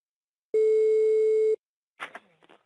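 On a prank call, a single one-second telephone tone sounds clearly and alone, followed by brief faint clatter as the line picks up.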